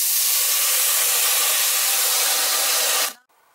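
A loud, sustained sizzling hiss of water hitting a hot pan while cooking pongal, holding steady for about three seconds before cutting off abruptly.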